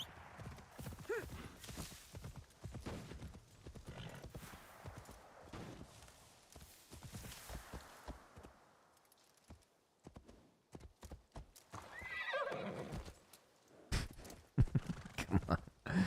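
A horse gallops in Assassin's Creed Shadows, rhythmic hoof clip-clops near and clear, with a brief whinny and pauses between runs.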